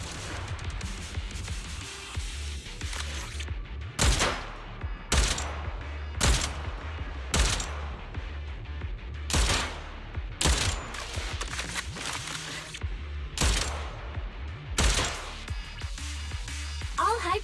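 Gunfire in Zenless Zone Zero comes as repeated loud, sharp shot bursts at irregular intervals over a low rumbling backdrop, with occasional talking between them.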